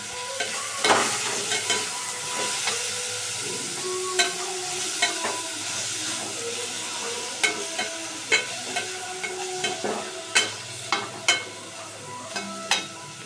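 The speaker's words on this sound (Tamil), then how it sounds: "நெக்ஸ்ட்டு தக்காளி போட்டுக்கலாம். பச்சை மிளகாய் 2 போட்டுக்கலாம். அப்படியே நல்லா வதக்கிக்கலாம்." Tomatoes and two green chillies sautéing in a pan for a crab dish, with steady frying sizzle and repeated sharp stirring scrapes and clacks at an irregular rhythm, close and fairly loud with no talking.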